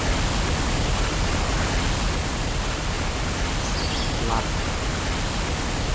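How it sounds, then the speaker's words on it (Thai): A waterfall in the video game Hitman: Blood Money pours in a steady, even rushing roar that holds at the same level throughout, with a faint brief voice barely surfacing partway through. "เียงน้ำตกอย่างดังนะ แต่น้ำตกสวยนะ"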